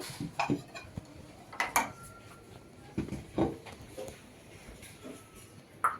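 Ceramic plates are set out and arranged for a home breakfast. A few distinct clinks and clatters come close by, separated by quiet gaps, and there is no talking.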